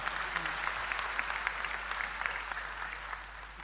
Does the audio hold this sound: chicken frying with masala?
no